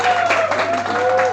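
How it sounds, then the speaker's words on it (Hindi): An audience at a Bhojpuri music event bursts into loud, steady applause, a dense wash of clapping from a crowd that holds even for the whole brief moment, with a sustained tone running beneath it. "जोरदार ताली बजाकर स्वागत करेंगे।"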